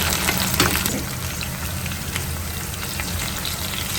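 Two chopped tomatoes frying in a pan for egg bhurji, giving a steady, close sizzle and crackle throughout with no voices.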